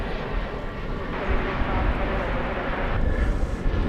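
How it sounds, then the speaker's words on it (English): A United Airbus airliner arriving from Chicago O'Hare roars steadily as it approaches DFW Airport on a sunny day, a continuous broad jet rumble heard at a distance with light background noise. "It's United Flight 2290, coming in from Chicago O'Hare over on the east side."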